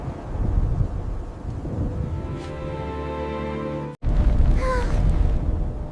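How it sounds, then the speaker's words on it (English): Desert sandstorm wind roars in a steady, loud rush with rumbling gusts, broken by a brief dropout and then resuming just as strong. "This sandstorm is scary."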